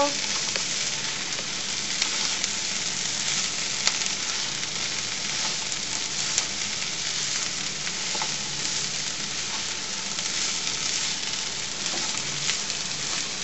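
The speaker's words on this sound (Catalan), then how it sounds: "una culleradeta de pebre vermell dolç i el fem fregir una miqueta" Steady crackling sizzle of sweet paprika frying in hot oil in a pan, with small pops scattered throughout, close and continuous.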